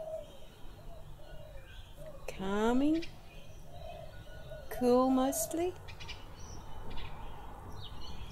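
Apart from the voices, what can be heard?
birds singing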